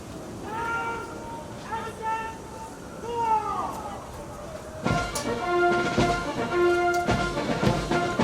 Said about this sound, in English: sound adjutant's call, will begin today's parade